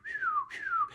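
A storyteller whistles in imitation of Saint Nick calling his reindeer: two clear, falling whistled notes in quick succession, fairly soft and alone, with no talking.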